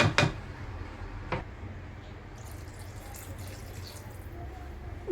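Water poured into tomato-based malai kofta gravy in a cooking pot, a steady close-up splashing wash with a couple of sharp clinks near the start and end.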